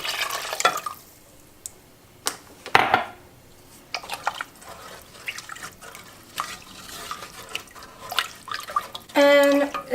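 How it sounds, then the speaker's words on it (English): Liquid pours in bursts into a pot for cheesy chicken Alfredo soup, irregular splashes and trickles with clinks of cookware, close by, ending in a louder sustained pour. "I'm going to pour in the first 2 cups."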